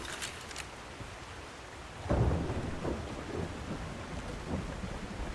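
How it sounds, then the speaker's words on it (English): Stormy weather in The Last Caretaker video game: steady rain hisses throughout, and about halfway through a deep rolling thunder rumble swells and lingers under the downpour, with no voices. "Beautiful stormy weather."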